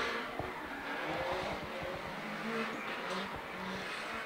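A D1NZ Pro-Sport drift car runs a qualifying lap at Baypark Stadium, its engine droning steadily with tyre noise, loud and continuous, while a commentator talks over it.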